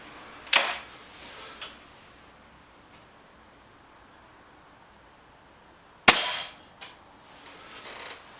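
Two sharp shots from a BSA Lightning SE air rifle, about five seconds apart, each a crisp close crack followed by a faint mechanical click.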